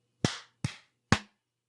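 Three sharp, sudden claps ring out from a small group clapping together on a count, each one a crisp, close smack with a brief decay, spaced at slightly uneven intervals in an otherwise quiet room.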